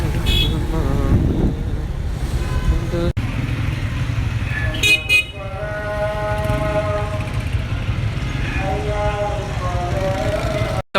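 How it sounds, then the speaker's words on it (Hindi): Busy market street traffic with repeated car horn toots and motorcycle engines droning close by, a loud continuous road rumble throughout. "तो यहाँ पर काफ़ी शोर है गाड़ियों का।"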